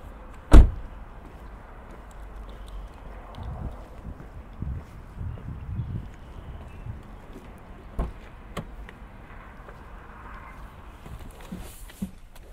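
Someone climbs into a 2024 Subaru WRX. A single loud, close door thump comes near the start, followed by quiet cabin rustling and shifting, then a softer knock later on, with no one talking.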